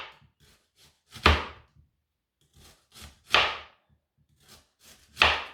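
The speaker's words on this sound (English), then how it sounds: "Now I'm going to cut the onion in the same thickness and the same style." A knife cuts through an onion into even slices on a board, landing three sharp chopping thunks about two seconds apart, each with softer scraping and taps between them, close and clear with no voices.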